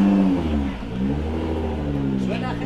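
Supercar engine at the Goodwood event, a deep loud idle and rumbling rev building under steady engine noise, while a person speaks over it nearby.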